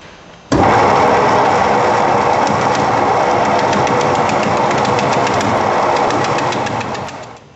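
A wood lathe spinning up and turning a manzanita bowl blank, a loud steady high-pitched motor whine with rapid rhythmic chatter that starts abruptly and holds, fading slightly at the end, with no talk.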